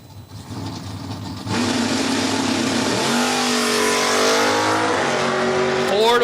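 A 1990 Mustang launches on a drag strip, the engine rising from a lower drone to a loud, high revving roar as it accelerates, with an announcer talking over it.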